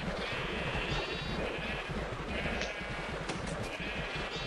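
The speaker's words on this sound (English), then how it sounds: "and you'll hear little sheep" Several sheep bleats in Minecraft rise over a constant, busy game background hum, short calls scattered through the clip at moderate loudness.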